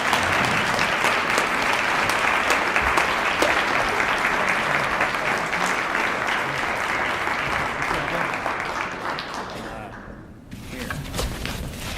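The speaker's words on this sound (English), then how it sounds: "Give Grover another round of applause." A crowd at a Nebraska Coalition for Immigration Reform event claps loudly and steadily for Grover Norquist, the dense applause thinning and fading near the end before a few scattered claps return.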